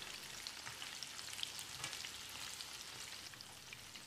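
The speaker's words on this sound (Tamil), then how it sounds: "நல்லா செவந்து வர அளவுக்கு ஃப்ரை ஆன பிறகு இதை எடுத்துடலாம்" Marinated chicken 65 pieces deep frying in hot oil, a soft, even, steady bubbling sizzle heard faintly from close by, with no voices.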